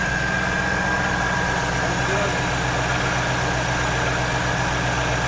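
A repaired, formerly flood-damaged Cadillac Allante idles steadily nearby, a continuous low rumble with an even, unchanging rhythm and no talking.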